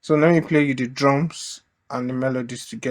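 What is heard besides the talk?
No everyday noise stands out behind the speech.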